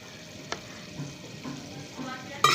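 Chicken masala with salt and garam masala frying in a pan while being stirred, soft sizzle with intermittent scraping strokes and a sharp clink near the end, no talking.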